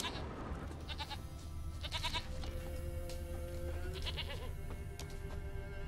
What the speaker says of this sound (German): jetzt müssen wir gucken, die Ziege hören wir schon.